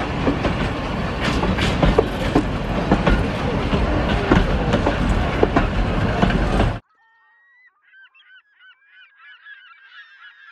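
Train passing close beside the track where a campervan is parked, a loud broadband rumble and clatter that stops abruptly, followed by faint honking geese.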